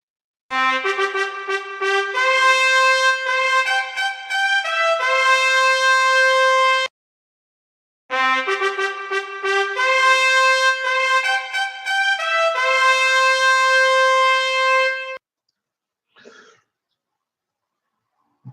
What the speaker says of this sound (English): That is the sound of the trumpet that you've just heard.